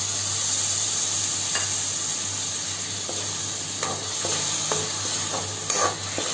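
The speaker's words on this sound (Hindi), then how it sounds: "अब उसे अच्छे से मिला लेना है मसाले के साथ।" A spoon stirs yogurt into okra curry masala in a hot pan, with steady scraping strokes and a few sharper clinks over a constant low sizzle, close and fairly loud, no voices.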